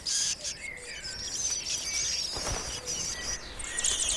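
Red-backed shrike chicks calling in the nest, with repeated thin, high chirping and insistent begging calls close by over a soft outdoor background.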